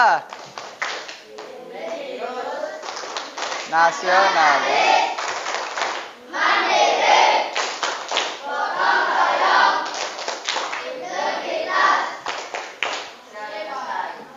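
Classroom students performing a rhythmic clapping chant in unison, patterned bursts of claps interleaved with children's chanted and shouted voices, loud and close, repeating over several cycles.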